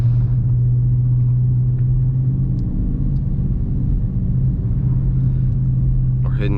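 A Dodge Charger RT driving through snow gives a steady, loud low engine rumble and road drone heard from inside the car, with speech-like sounds over it throughout.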